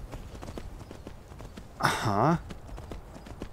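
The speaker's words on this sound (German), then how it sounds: "Oh, da kann man sogar dauerhaft galoppieren." Rhythmic hoofbeats and a horse's whinny swell briefly from Skyrim game audio, while a person talks quietly in the background.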